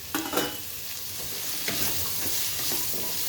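Vegetables and spices sautéing in a pan for shahi pulao, a steady close sizzle with intermittent scraping and stirring taps from a utensil, no voices.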